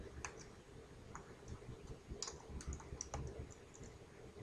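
Computer keyboard keys tapped while entering text into a spreadsheet, a quiet run of light, irregular clicks spaced over several seconds against a soft room hiss.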